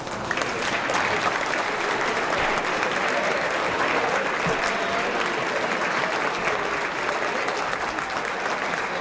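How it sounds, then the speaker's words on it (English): Sustained applause from a large audience honoring service members' families at a Veterans Day ceremony, a thick, even wash of clapping that holds steady and loud throughout, with no speech. "Let's give them a round of applause."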